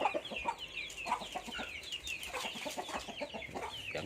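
Chickens cluck and chatter in soft, rapid bursts while pecking at leftover pork cracklings, fairly faint and close, with no talking.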